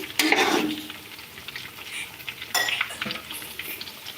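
Chicken pieces sizzle in hot oil in a home kitchen, a steady moderate crackle with a couple of brief louder bursts as the pieces are stirred, with no talking.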